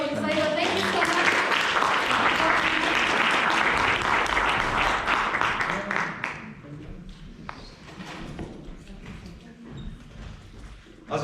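Warm round of applause from an audience at a Toastmasters club meeting, steady clapping for about six seconds that thins into scattered claps and room noise.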